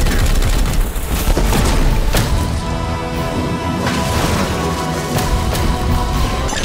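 Gunfire in the tactical game Warhammer 40,000: Chaos Gate - Daemonhunters, loud and continuous, with heavy booms and sharp cracks layered over a dense battle roar.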